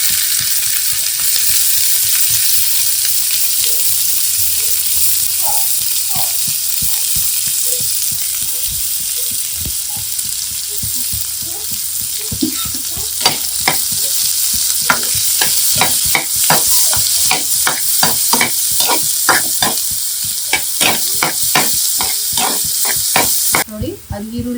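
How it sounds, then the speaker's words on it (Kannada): Green chillies, curry leaves and onion sizzle loudly in hot oil for a tempering of fresh-bean bassaru, a steady frying hiss with stirring scrapes and clicks growing more frequent midway. "ಈಗ ಮೆಣಸಿನ್ಕಾಯಿ, ಕರಿಬೇವು ಹಾಕ್ತಾ ಇದೀವಿ, ಈರುಳ್ಳಿ ಹಾಕ್ತಾ ಇದೀವಿ."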